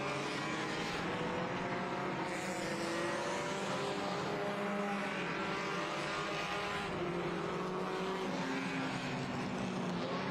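Race cars at Orange Show Speedway during a CARS Tour West event, a continuous loud roar of several engines droning steadily throughout, with no break in the noise.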